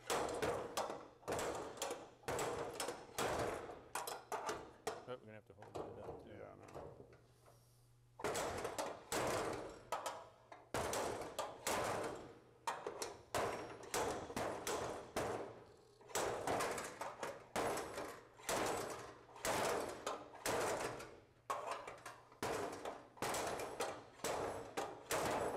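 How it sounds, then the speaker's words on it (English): Rapid, loud metallic impacts repeat steadily for the whole stretch, with a brief pause partway through, as a slide hammer and hammer strike metal on an Austin-Healey 3000. "going to slide hammer it, and I'm going to hit it right here a little bit."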